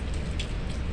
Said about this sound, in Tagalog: nakatikim din kami ng super duper lakas na ulan